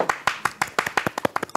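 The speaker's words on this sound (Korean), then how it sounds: "시스타의 첫 여성 게스트 박수 한번 칠까요?" Studio hands clap to welcome a guest on a talk show, a quick, sharp, close series of about a dozen claps in an irregular rhythm.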